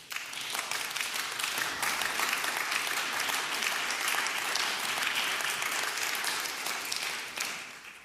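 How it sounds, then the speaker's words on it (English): Loud, sustained applause from a press conference audience announcing a German coalition agreement, dense clapping holding steady for several seconds before trailing off at the end. "I was waiting for the applause"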